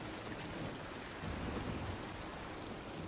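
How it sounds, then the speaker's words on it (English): Steady rain pours down in the Disney Dreamlight Valley video game, a dense continuous patter with low thunder rumbling underneath, swelling briefly midway before settling back to an even downpour. "Damn rain, man."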